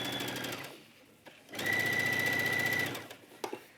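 A sewing machine stitching ribbing around a curve on a half-zip pullover, a fast even mechanical whir that runs for over a second after a brief pause, with lighter handling clicks around it, close and with no talk.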